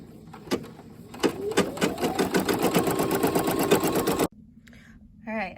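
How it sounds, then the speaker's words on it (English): An embroidery machine stitching lettering onto an in-the-hoop bag tag, a rapid, steady mechanical patter close up that stops abruptly, followed by a brief quiet and a short voice. "hit start and let it go ahead and stitch out my lettering"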